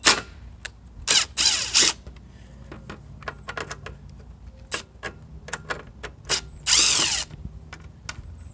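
A power drill whirs in several short bursts removing cover screws from a lawn mower, separated by clicks and small tool handling noises, loud and close with no speech.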